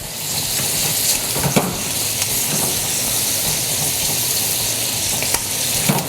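A trout fillet fries in a pan, giving a steady, loud, broadband sizzle with a few sharp crackles and pops scattered throughout for several seconds, and no talking.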